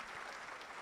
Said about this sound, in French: on applaudit bien fort les lauréats